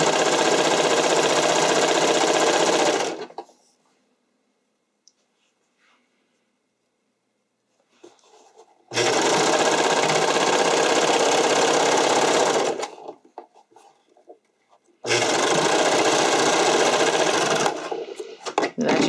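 A serger overlocker stitches narrow waistline elastic onto fabric in three loud, close bursts of rapid mechanical chatter, separated by quiet pauses with faint handling sounds.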